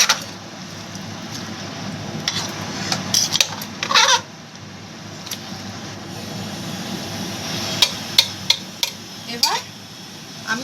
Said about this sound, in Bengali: আলুগুলোকে একটু ওপর নিচ করে দিচ্ছি।